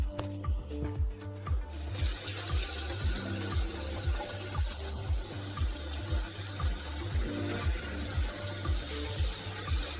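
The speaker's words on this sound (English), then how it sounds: "The water is currently running." Water runs from a faucet into a newly installed granite sink in an outdoor kitchen, a steady broadband splashing rush after a quieter start, with a low repeating mechanical hum underneath.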